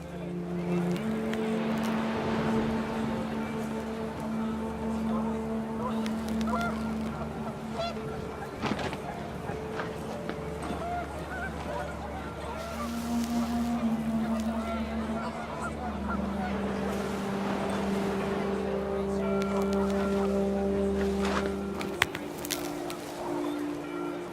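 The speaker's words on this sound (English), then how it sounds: "panicked geese appeared and quickly went" Panicked geese honking in the video game What Remains of Edith Finch, with repeated overlapping nasal honks running continuously over a low windy rumble, moderately loud and busy throughout.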